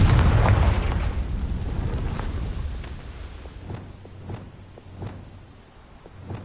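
Confringo fire blast spell in Hogwarts Legacy, an opening loud explosive boom that fades into a rumbling tail, followed by a series of sharper, quieter popping bursts spread across the rest.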